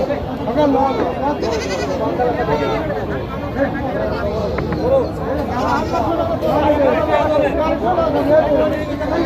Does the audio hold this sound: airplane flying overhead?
no